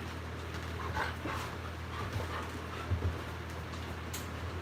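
A dog pants and lets out a few soft whimpers while waiting to go outside, faint and intermittent over a low steady hum, with small yelps near the end.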